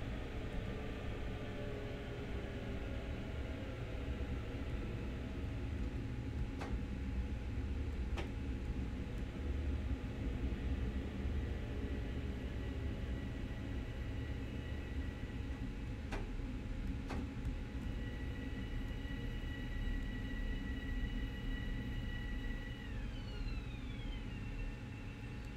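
An M7 electric multiple unit train from Train Sim World's Long Island Rail Road route running at speed, with a steady dense rumble and hum, a few sharp clicks, and descending whines near the end as it brakes.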